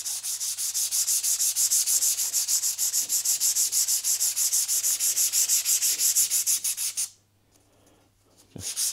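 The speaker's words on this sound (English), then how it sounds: "I'm just going to give that a rub over with some wet and dry." Wet and dry sandpaper rubs over a part of a Royal Enfield Classic 350 Reborn being given an aged rust finish, a fast steady rasping of close, even strokes for about seven seconds before stopping abruptly.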